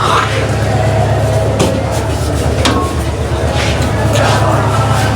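A train pulls into a station on the Laksam to Chittagong line, a steady loud rumble and low drone throughout with a person talking over it nearby.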